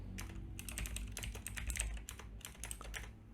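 Quick, close keystrokes clatter on a computer keyboard as CSS code is typed, a brisk irregular run of clicks with no talking.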